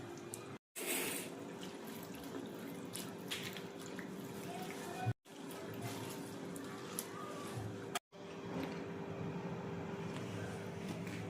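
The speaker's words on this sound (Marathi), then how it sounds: "आता पालक स्वच्छ पाण्याने धुवून घ्यायचे आहे" Fresh spinach leaves are rinsed in clean water, a faint continuous splashing and trickling wash with brief breaks, heard close in a quiet kitchen.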